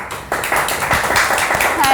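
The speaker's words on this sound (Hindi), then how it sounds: "और ताली बजाओ" Audience clapping at a Hindi TV celebrity interview show, sharp claps building into a steady patter after a brief lull, with some speech-like sound mixed in.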